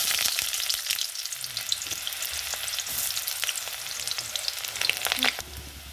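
Onion fries in hot mustard oil in a kerahi, a dense, close crackling sizzle with scattered pops that runs steadily and drops away just before the end.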